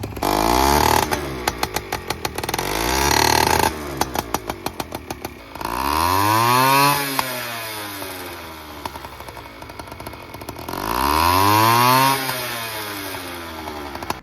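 A small two-stroke big bore Honda Express moped engine revs up hard three times, rising to a high buzzing whine and dropping back to a sputtering idle between revs.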